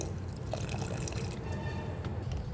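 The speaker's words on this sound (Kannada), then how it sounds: "ನಾನು ಹುಳಿ ಹಾಕೋತಾ ಇದ್ದೀನಿ" Tamarind water is poured into rasam cooking on the stove, giving a soft, steady liquid pour with faint trickles and drips, quiet and close.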